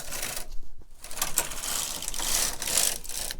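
A knitting machine carriage sliding across the needle bed to knit one row of bulky yarn, giving a loud, continuous mechanical clatter and ratcheting rattle.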